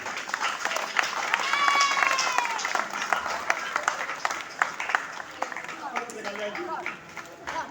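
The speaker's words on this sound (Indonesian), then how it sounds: "mohon tepuk tangannya" Clapping from a group at a school graduation ceremony, mixed with lively voices and a few shouts, the applause uneven and somewhat distant, tapering toward the end.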